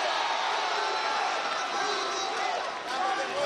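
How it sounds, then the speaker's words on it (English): A boxing crowd roars and cheers at the Khabib Allakhverdiev vs Joan Guzman bout, a dense, steady wall of noise that swells and dips slightly, with voices mixed in. "The crowd goes wild"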